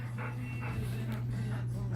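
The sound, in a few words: young dog whimpering and panting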